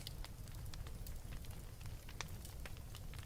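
A fireside fire crackles quietly and steadily, scattered sharp pops and snaps rising over a low soft hiss, alone with no voices.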